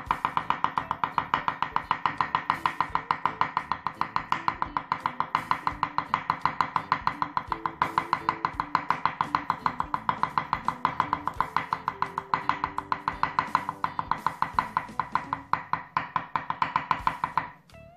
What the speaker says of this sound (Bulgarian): Сега ще нарежем много наситно юзъма, който ще сложим като подправка вътре.